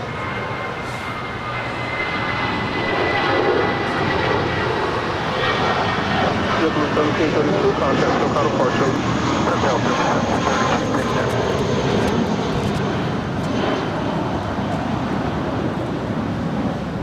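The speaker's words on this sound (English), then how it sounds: "JetBlue Airways flight 1732 heading to Salt Lake City in this A320" A JetBlue Airways A320 jet departs LAX with a continuous loud engine roar and rushing noise that holds steady for many seconds, heard from a distance outdoors.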